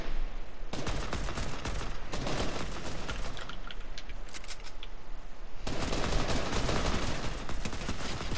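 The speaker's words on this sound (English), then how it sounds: "Where that person shooting me from?" Gunfire in the Fortnite video game, rapid bursts of automatic shots in dense, loud volleys with brief lulls, continuing almost without pause.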